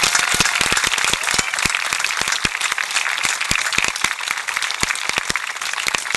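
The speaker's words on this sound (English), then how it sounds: "please, let's just give them a round of applause" A crowd at a Hispanic Heritage Month event at NBVC gives the committees a loud round of applause, dense clapping with sharp individual claps standing out close by, sustained from start to finish.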